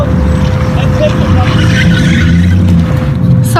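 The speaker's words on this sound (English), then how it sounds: "as he drove off like a maniac" A car driving off fast: a loud, close roar of engine and tyres that stays continuous throughout, with voices heard over the noise.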